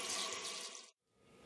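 Tap water runs steadily into a sink during handwashing, a close, bright gushing stream that cuts off abruptly, leaving a faint trickle and drip afterward.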